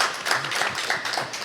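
Studio audience on a television talk show claps briefly, a close, even patter of applause lasting under two seconds with no talk over it.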